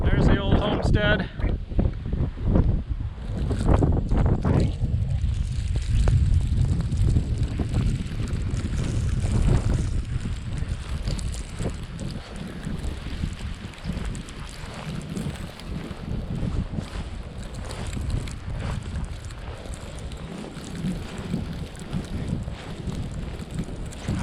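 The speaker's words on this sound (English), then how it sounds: "I'm just walking down the driveway in a blizzard." Blizzard wind roars outdoors on a snowy driveway, a continuous rough gusting blast buffeting close by, with someone speaking at times over it.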